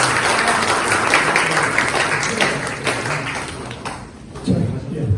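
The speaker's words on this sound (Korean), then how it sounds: "발표하신 세 분께 다시 한번 큰 박수 주시기 바랍니다" Audience applause fills a hall at a public language forum, a dense wash of clapping that thins and tapers near the end, with a brief murmur of voices underneath.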